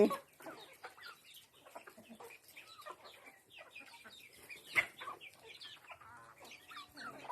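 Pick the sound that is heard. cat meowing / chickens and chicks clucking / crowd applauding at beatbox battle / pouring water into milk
chickens and chicks clucking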